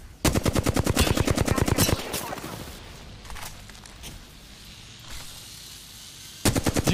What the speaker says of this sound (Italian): I nemici mi stanno sparando.